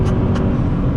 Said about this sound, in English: I love driving this car.